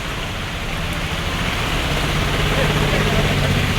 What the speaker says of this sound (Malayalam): നല്ല വെള്ളം, നല്ല അടാറ് മഴയാണ്